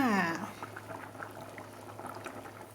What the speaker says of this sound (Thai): เดือดแล้ว เดือดแล้วพอเลยค่ะ